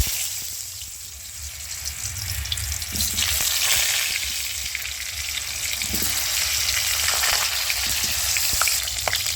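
Potato pieces sizzle and crackle in hot oil in a village-style kitchen, a steady frying hiss running close and loud throughout with occasional stirring, no voices.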